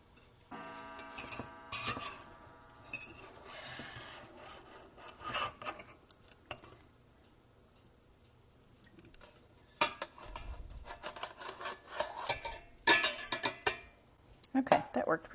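A hot pork ribeye roast is shifted into a pan, with intermittent scraping and rubbing contacts and clattering metal touches, a few louder thumps near the end, and quiet stretches between.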